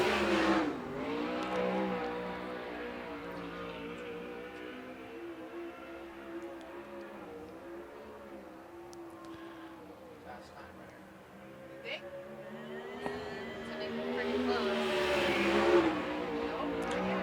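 USAC non-wing sprint car engines roar around Central Arizona Speedway at full throttle during qualifying, a steady high-pitched drone rising and falling as the car laps, with a commentator talking over it.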